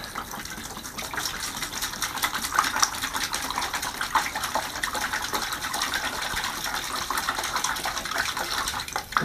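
Tap water gushes steadily into a bucket for mixing drywall board adhesive in a basement, a constant broadband splashing flow that stays loud and even throughout, with no talking.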